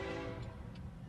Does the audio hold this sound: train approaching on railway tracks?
yes